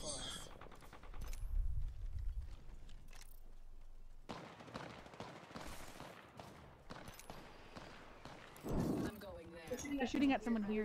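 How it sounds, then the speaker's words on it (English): Automatic gunfire in the battle royale game Apex Legends, bursts of shots rattling off at mid distance amid game noise, with players talking over the action. "They're shooting at someone here too"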